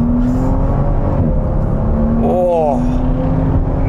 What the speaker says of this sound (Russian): Ладно, сейчас собираюсь топить.